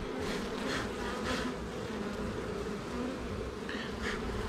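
Honeybees buzzing around an opened hive frame during a beekeeping inspection, a loud, dense continuous hum close to the microphone with a few passing higher-pitched wingbeat swells, no voices.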